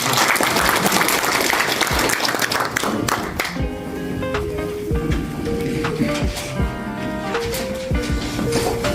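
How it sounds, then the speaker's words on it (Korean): Applause at an academic conference of a Korean vascular care association welcoming a company chairman to give congratulatory remarks: loud, dense clapping that thins and fades after a few seconds, leaving lighter scattered claps under background music. "힘찬 박수로 환영합니다"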